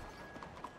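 Faint horse hooves clip-clop in Red Dead Redemption 2, a few soft irregular steps heard in a brief moment with no voices.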